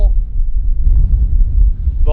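Strong wind on a golf course in Scotland buffets the microphone in a steady, heavy low rumble, with a voice briefly heard at the edges.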